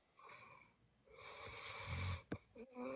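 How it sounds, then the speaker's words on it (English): A man snores in a room, with a long, rough, rumbling breath, a sharp snort and then more raspy breathing, close and moderately loud. "he's snoring"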